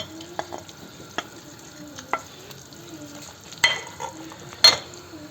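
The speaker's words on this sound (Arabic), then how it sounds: "وهنايا غادي نزيد القمرون ديالي" Shrimp frying in a pan while being stirred, soft continuous sizzle close by with scattered scrapes and knocks from the spoon, a couple of louder clatters toward the end.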